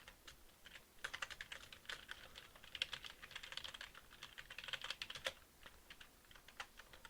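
Rapid, uneven clatter of code being typed on a computer keyboard, close and fairly quiet, keystrokes coming in quick bursts with short pauses and no voices.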